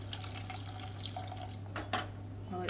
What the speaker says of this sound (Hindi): तो अब मैं इसमें ऐड करूँगी पानी, क्योंकि हमें थोड़ी ग्रेवी बनानी है इसकी